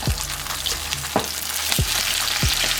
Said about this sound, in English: We're going to brown it on each side.